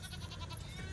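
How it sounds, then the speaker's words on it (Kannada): Goat bleats in a rural village setting during a native festival, a short run of pulsing cries close by over a steady low background hum. "ಇದೇ ಮೇಕೆ"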